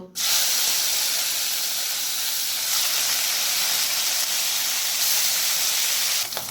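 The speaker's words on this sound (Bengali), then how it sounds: "এরপর আমি ওই তেলে ম্যারিনেট করা মাছের পিসগুলো দিয়ে দেব।" Marinated katla fish pieces go into hot mustard oil and set off a loud, steady broadband sizzle that holds evenly for about six seconds, with no voices over it.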